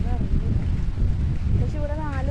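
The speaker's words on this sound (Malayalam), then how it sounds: "നല്ല കാറ്റുണ്ട് കേട്ടോ." Steady wind gusts buffet the microphone at a beach during a midday carnival, a continuous rumbling rush with a person talking over it.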